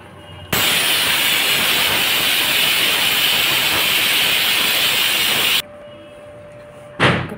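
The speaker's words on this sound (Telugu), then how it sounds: "ఇప్పుడు కుక్కర్ మూత పెట్టుకుని ఒక్క విజిల్ వచ్చేంత వరకు ఉడికించుకున్నామండి" A pressure cooker lets off steam in one loud, continuous hiss lasting about five seconds, then cuts off abruptly before a brief final burst.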